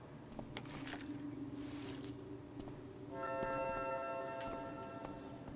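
Keys jangle and clink as they are picked up in the Life is Strange: Before the Storm video game, a bright metallic rattle in the first two seconds, followed by a sustained ringing tone over low background hum.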